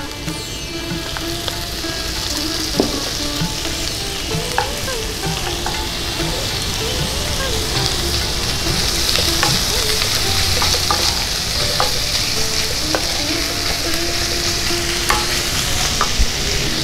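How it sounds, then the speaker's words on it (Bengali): Onion and chicken keema frying in a pan, a loud, steady close-up sizzle with occasional stirring scrapes throughout, no voices. "পেঁয়াজটা ভাজা হতে হতে আমি চিকেন কিমাটাও দিয়ে দিচ্ছি।"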